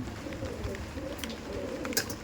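Pakistani Chotiyal breed pigeons coo softly and continuously at close range, low murmuring calls layered over a steady background hum with a few faint higher chirps.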